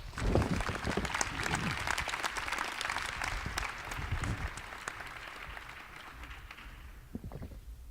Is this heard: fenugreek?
no